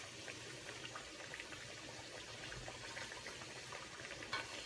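Plantains frying in a hot pan, a faint, even sizzle and crackle of oil with a few brief pops, heard close and without talk.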